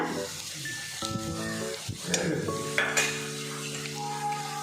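Chicken with green chili, ginger, garlic and curry leaves sautés in a pan, a close steady sizzle and frying hiss with spoon scrapes and clinks of stirring against the pan.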